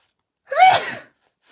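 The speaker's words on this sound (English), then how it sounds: "I'm going to sneeze." One sharp, close sneeze with a quick inhaled lead-in and breathy burst, alone in an otherwise quiet room.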